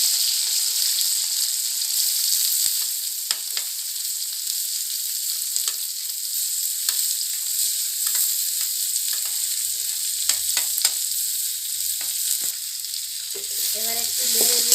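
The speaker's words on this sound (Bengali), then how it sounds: "এবার তেলটা কাঁচা লঙ্কা তুলে দিব। পেঁয়াজ তুলে দিব।" Green chillies and onion hitting hot oil in a wok for a Japani puti fish teljhal: a loud, continuous frying hiss that holds steady throughout, with a few faint clicks and no talking.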